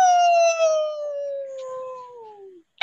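A person imitates a wolf howl with hands cupped around the mouth during a game playtest, one long loud sliding howl that falls steadily in pitch over a few seconds, then a short noise at the end.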